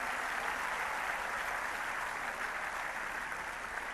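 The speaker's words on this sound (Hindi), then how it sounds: "तो एक बार इनके लिए भी जोरदार तालियां" Loud, steady applause from a large crowd honouring Special Olympics athletes at a National Sports Day celebration in New Delhi, dense clapping that holds without a break throughout.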